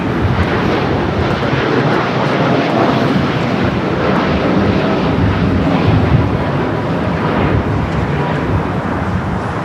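A jet airliner roars steadily and loudly as it takes off on runway 25 right at LAX. The broad rushing engine noise holds for the whole stretch, with wind buffeting the microphone and no voices heard.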